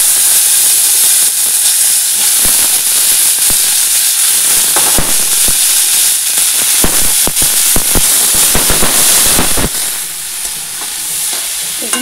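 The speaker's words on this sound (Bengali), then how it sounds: "এখানে এটা ভাজা হচ্ছে" Oil tempering with cumin, bay leaf and green chilli frying in a pan, a loud, steady sizzling hiss with scattered clicks and stirring scrapes throughout, easing slightly near the end.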